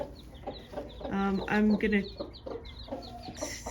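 A broody backyard hen clucks close by on a cold morning, a short run of throaty, rhythmic clucks rising in the middle, with a faint background voice.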